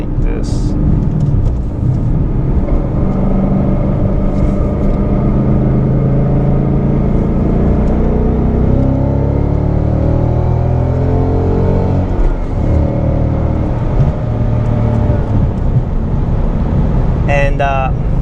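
A Ford Mustang Mach 1 accelerates hard to overtake a dump truck, its engine a steady loud drone that climbs in pitch through the pass, heard from inside the car with someone talking over it.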